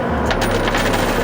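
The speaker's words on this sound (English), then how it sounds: "got some more coins down" Coins clatter and jingle densely in a coin pusher machine, a loud, close cascade of metallic clinks lasting just over a second.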